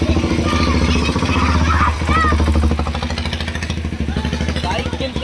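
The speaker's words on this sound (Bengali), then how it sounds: "বাইক কিন্তু এখনো শেষ হচ্ছে না," A political rally with many motorcycles rumbling past together, a loud, close, throbbing mass of engine noise, with voices shouting and talking over the top.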